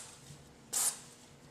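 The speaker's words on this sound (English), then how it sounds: "So let's just do a quick spray." A single short burst of dry lube sprayed from a can onto a gun, a quick close hiss lasting a fraction of a second against a quiet room.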